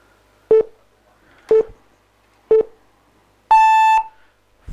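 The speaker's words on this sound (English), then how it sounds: "Kumar, your countdown timer begins." A quiz show countdown timer gives three short, evenly spaced electronic beeps about a second apart, then one longer, brighter final tone, loud and clear over near silence.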